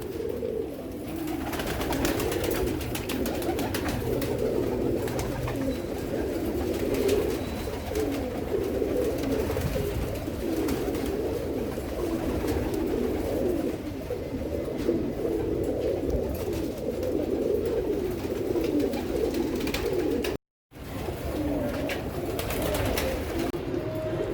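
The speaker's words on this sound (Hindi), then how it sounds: "ये भाई मिल्टन भाई के कबूतर हैं" Red-pearl and black-pearl pigeons coo in a dense, continuous low murmur, with several birds cooing at once close by.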